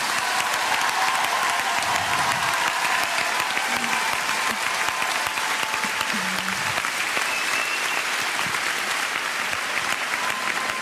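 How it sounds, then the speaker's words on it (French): A large audience applauds loudly at a televised tribute show, a dense, sustained wall of clapping with faint crowd murmur and a few brief tonal sounds underneath, lasting about eleven seconds. "Moi, je voudrais qu'on l'applaudisse très fort ce soir."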